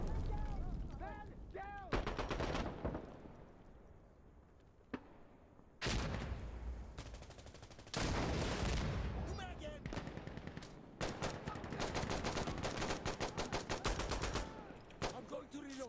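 Gunfire in the Arc Raiders video game: repeated bursts of rapid automatic shots and sharp cracks, loud and close, continuing in waves throughout with occasional quieter gaps.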